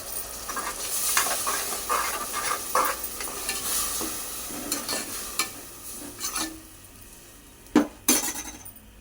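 Ground tomato poured into a hot pan sizzles loudly with a wet hiss, while a utensil scrapes and stirs, and a couple of sharp metallic clinks near the end.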